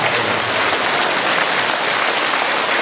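A large crowd at a Buddhist gathering in Penang, Malaysia, applauds in a thick, roaring, rain-like wall of clapping that stays loud and unbroken throughout.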